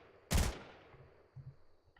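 A P90 firing in the Fortnite video game: one loud, sharp burst of gunfire that decays into a short tail, followed by a softer low thump and faint game ambience, with no talking.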